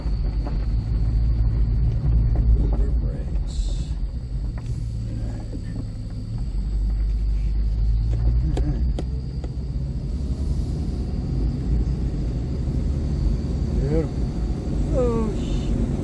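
A 1996 Ford Mustang on a test drive after new rear pads and rotors, tie rod and ball joint, its engine rumbling steadily up close with road noise throughout.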